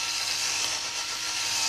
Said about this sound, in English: Drill out the head of the rivet by rotating the drill in an elliptical manner.